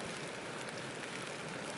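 Light rain falls steadily on a lakeside campsite in the mountains, a faint, even hiss of drops with no talking.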